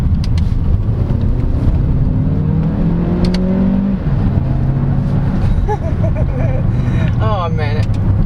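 A 2023 Chery Tiggo 8 Pro with a 1.6-litre turbo engine and dual-clutch transmission accelerates on a test drive, its engine note rising through gears as a steady cabin drone, with a voice over the top at times.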